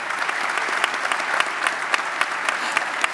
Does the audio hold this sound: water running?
no